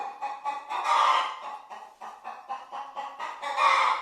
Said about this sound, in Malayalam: അതാ കോഴി